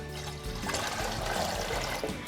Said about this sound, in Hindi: अब हम एक बड़ी देगची में 2 जग पानी डालेंगे।